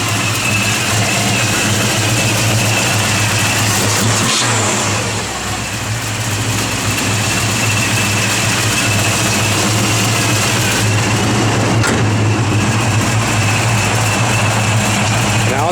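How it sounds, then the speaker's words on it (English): A 1966 Chevrolet Nova V8 fitted with a Pete Jackson gear drive idles loudly and close, with a steady rumble, a whirring gear-drive whine, and a couple of brief throttle blips. "Got a Pete Jackson gear drive in it."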